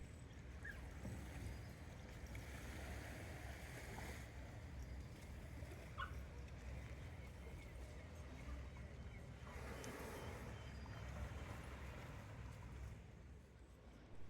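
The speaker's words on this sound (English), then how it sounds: "This is St Ives Harbour at high tide." St Ives Harbour at high tide, with steady lapping water, wind and boat noise filling a continuous low wash, a few faint clinks, no talk.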